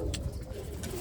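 A Birmingham Roller pigeon gives a short, soft coo close by, over a low rumbling background of other birds.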